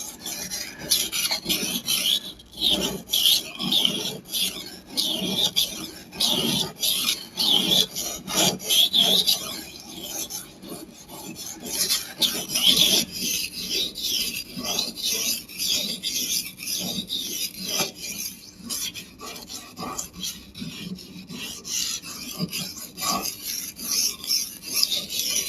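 A long kitchen knife is drawn section by section across a store-bought whetstone, making a steady, close rasping scrape in repeated strokes with no talking.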